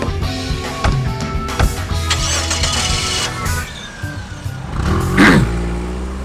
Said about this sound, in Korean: 이거는 오토바이 소리인데?